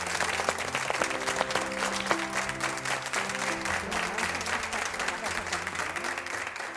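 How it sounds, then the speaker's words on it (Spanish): Sustained applause for bullfighters fills the space, dense and steady throughout, with band music playing underneath. "un aplauso para todos."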